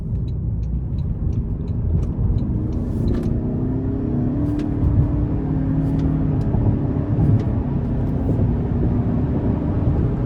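A 2025 Toyota Camry SE 225 hp hybrid engine revs up in sport mode and pulls steadily in a continuous low rumble, with road noise beneath and a few faint high clicks.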